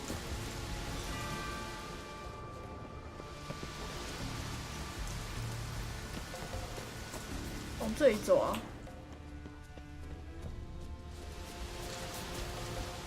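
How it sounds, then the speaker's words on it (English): Steady rain falls in The Witcher 3, a continuous hiss of drops on surfaces under a person talking, with a brief louder burst midway. "Looks like rain."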